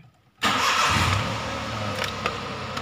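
A Daihatsu Xenia engine cranks and fires up after a short quiet moment, then settles into a steady, close idle with a faint rev flutter.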